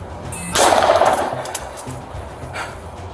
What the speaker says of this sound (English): POV then shows the moment the officer was able to take a clean shot and take Palifox down.